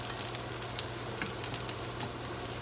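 Shredded hash browns frying in a pan give off a steady, close sizzle and crackle, with a few soft scrapes as they are stirred and turned, and no one speaking.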